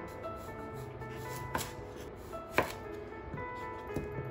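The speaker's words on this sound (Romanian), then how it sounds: "Tăiem cartofii rondele." A knife slicing potatoes into rounds on a cutting board, with several distinct, close chopping knocks at irregular intervals over a steady low background.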